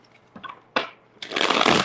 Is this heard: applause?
no